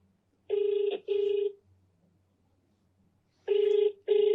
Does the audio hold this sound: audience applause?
no